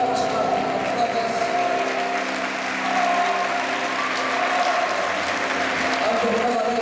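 An audience at a sports gala applauds two participants, a moderate spread of clapping running under a sustained musical tone, with voices talking over it.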